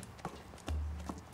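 A horse that had been lame, now fitted with hoof protection, walks with a few distinct clip-clop hoof strikes at close range over a low rumbling background.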